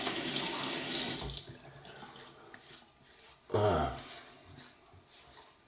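Water runs from a bathroom tap for about a second and a half before a shave, a steady close hiss that stops, followed by quiet handling sounds and a brief splash.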